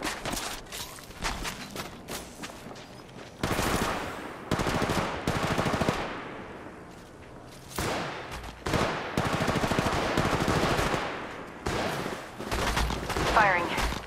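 Automatic weapon fire from the mobile shooter Apex Legends Mobile comes in several loud, rapid bursts separated by short pauses, with footsteps and game voice callouts in between.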